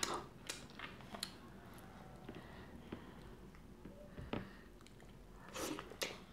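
Chewing ogbono soup and fufu close to the microphone: soft, wet bites and squishy mastication in irregular bursts, with faint smacking and occasional louder crunches.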